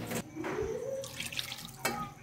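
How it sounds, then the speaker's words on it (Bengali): Water poured from a vessel into a pan of fish cooking with mixed spices, a steady close splashing and trickling stream lasting a couple of seconds with a brief clatter near the end. "আর একটু পানি দিয়ে আমি ঢাকনা দিয়ে ঢেকে রান্না করে নেব।"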